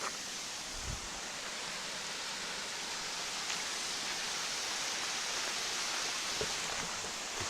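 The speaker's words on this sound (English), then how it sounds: "The water's going down in there." Steady broadband rushing of stream water draining down into a small rectangular hole in the stream bed, a continuous close wash with no voices.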